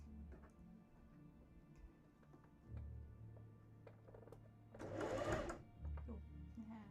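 A sewing machine stitching in zigzag mode while sewing an undershirt, a short rattling burst of stitching near the end after quieter handling noises and low background hum.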